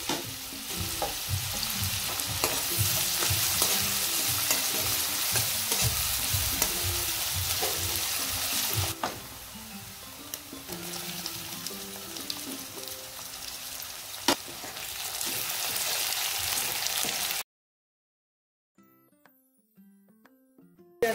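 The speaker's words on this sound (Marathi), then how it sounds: "हिंग टाकला, आणि कांदा टाकून परतून घेणार आहोत" Onion sautés with asafoetida and leaves in a hot pan for a mixed vegetable dish, a dense crackling sizzle with stirring scrapes that eases midway, swells again, then cuts to near silence.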